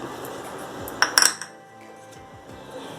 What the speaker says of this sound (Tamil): எல்லாத்தையும் நல்லா மிக்ஸ் பண்ணிக்கோங்க